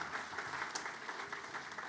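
A Chamber of Commerce audience in Hagerstown applauds honored guests, a soft, steady patter of many hands clapping at a distance, fairly faint and even throughout.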